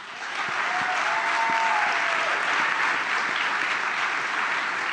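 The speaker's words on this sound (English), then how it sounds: "Let's give them all a round of applause." A large audience at an ELEVATE Orlando anniversary party applauds the sponsors, a steady dense roar of clapping that holds loud and even for the whole stretch.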